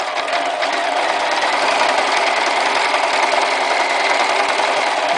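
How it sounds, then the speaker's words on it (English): A domestic sewing machine stitches a fabric rucksack turned around its free arm, running as a steady, continuous mechanical whir close by with no pauses and no voices. "the bag is rotating around the free arm of the sewing machine"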